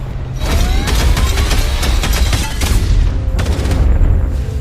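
Loud bursts of rapid gunfire from inside a train carriage in a movie crackle over a deep rumbling background, with a brief pause before another volley of shots.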